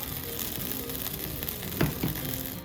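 Grapes and cognac sauté and sizzle in a hot pan, a steady close frying hiss with a couple of brief scraping stirs near the end.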